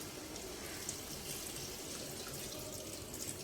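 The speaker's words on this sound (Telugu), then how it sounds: "ఇప్పుడు కొంచెం వాటర్ పోసుకుందాం." A continuous soft rush of water poured into a cooking pan of mutton and dosakaya curry runs steadily throughout, fairly quiet and close, with no voices.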